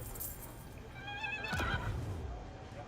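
A horse neighs in the fantasy strategy game Total War: Warhammer 3, one clear whinny rising mid-clip over a steady bed of battle ambience and distant hoof clatter.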